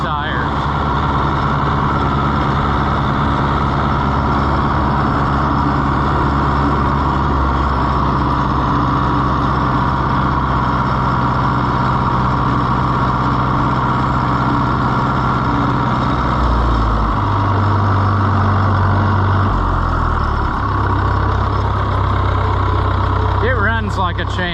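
A 1960s-era Oliver 1365 diesel tractor runs steadily while driving on inflated tires, its engine a continuous loud drone with a low rumble that shifts pitch slightly near the end, heard alone without speech.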